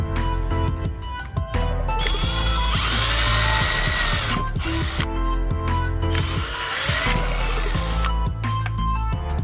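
A small power drill whirs in repeated bursts, revving up and biting into a plastic bottle cap, with short pauses between and a steady mechanical drone underneath.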